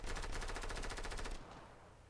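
Rapid automatic gunfire in the Fortnite video game, a loud, evenly spaced burst that runs for over a second and then cuts off, leaving a low hum.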